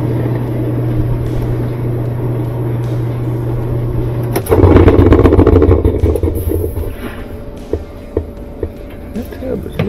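A loose-tub Whirlpool washing machine on its spin cycle: a steady low hum and drone for the first few seconds, then a louder burst of rattling, clattering churn that settles back into a rumbling whir with occasional knocks.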